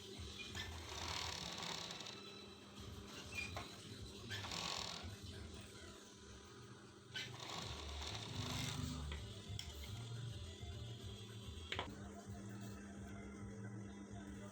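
An overlock sewing machine runs around a fabric edge while sewing a pocket, its busy mechanical whirring and rattling continuing steadily with pauses and changes in speed.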